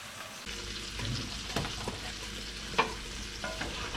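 Asparagus sizzles in a hot cast iron skillet and is stirred, a soft continuous frying hiss with occasional scraping and clinking of the utensil against the pan, fairly quiet and without talking.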